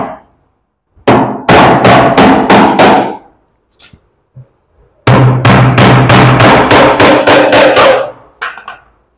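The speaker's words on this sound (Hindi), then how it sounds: "इसको हमने कच्चा कील में फिक्स कर लिया" A hammer drives temporary nails to tack a handmade wooden sofa frame, landing two loud, close bursts of rapid, evenly spaced blows separated by a short pause.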